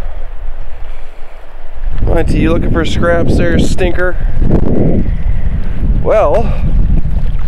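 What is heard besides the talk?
wind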